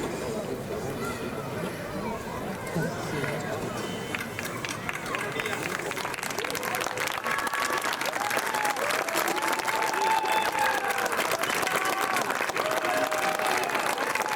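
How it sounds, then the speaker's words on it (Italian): Applause at an outdoor-style village concert in Ovaro, a sustained wash of clapping mixed with crowd chatter and murmuring voices throughout. "Un applauso per mia zia, giusto?"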